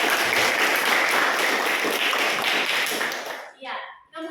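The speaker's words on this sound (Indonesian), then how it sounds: "Beri tepuk tangan dulu." A class of students claps together in a school lesson, a loud, close burst of many hands that runs about three seconds, then cuts off abruptly as a voice begins speaking.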